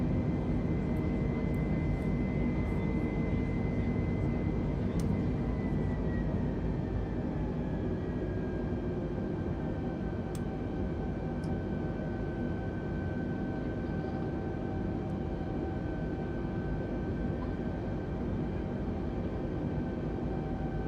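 Airliner engines at climb thrust just after takeoff in Microsoft Flight Simulator, a steady, loud jet roar with a sustained whine that shifts slightly in pitch, continuous and alone with no talking.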